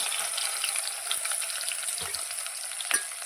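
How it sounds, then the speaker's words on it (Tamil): Onions fry in hot oil for a curry leaves kulambu, giving a continuous loud sizzle with a few faint stirring knocks. "எடுத்து வச்சுருக்க வெங்காயத்தை இது கூடவே சேர்த்துக்கிறேன்."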